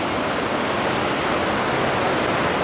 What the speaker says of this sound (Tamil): பாருங்க, எங்கேருந்து வந்து பாருங்க தண்ணி. நல்ல மழை வேறு பெய்தா, தண்ணி கொட்டுது ஃபால்ஸில்.